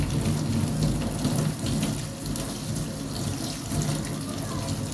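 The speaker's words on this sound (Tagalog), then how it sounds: "Pero huhugasan natin yan." Dishes washed under running tap water, a steady close rush from the faucet with splashing and some clatter, continuous and loud.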